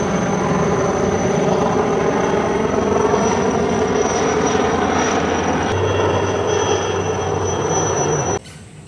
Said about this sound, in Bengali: এয়ারফোর্সের চপার মাথার উপর দিয়ে উড়ে গেল